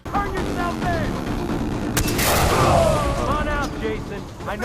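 Gunfire and a booming explosion in the Far Cry 3 video game, with rapid shots followed by a loud, broad blast, over a steady bed of game noise and some voice.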